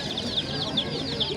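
Chicks and goslings for sale at a poultry bird market give a steady chorus of chirping, with repeated high peeps about every 0.4 seconds over a busy background murmur.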